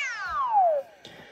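A single drawn-out meow from a cat in the Super Mario Maker 2 video game, falling in pitch over nearly a second, followed by a faint short sound.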